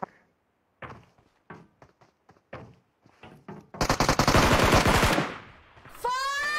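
Gunfire in PUBG Mobile: a few scattered single shots are followed by a loud, close burst of sustained automatic fire lasting over a second, then a sharp ringing metallic tail, with no talk.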